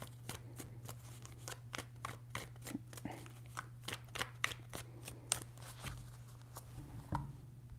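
Tarot cards being shuffled by hand in fast riffling bursts, quiet and close, over a steady low electrical hum, with no one talking.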